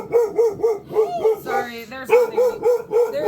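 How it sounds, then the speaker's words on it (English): A dog barks repeatedly in a steady, evenly spaced series of sharp, fairly close barks, with people talking over part of it. "Sorry about the dog barking."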